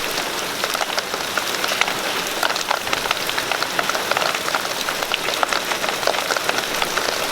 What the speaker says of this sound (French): je sais pas si vous entendez, mais c'est le déluge